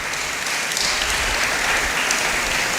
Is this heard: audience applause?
yes